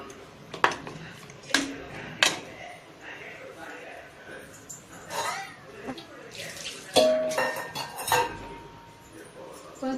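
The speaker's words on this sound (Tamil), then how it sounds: "நான் கொஞ்சம் தண்ணி சேர்க்குறேன்." Water goes into a pot of mutton trotter paya (aatu kaal paya) garnished with coriander, amid clinks of utensils and splashing, while a person talks nearby.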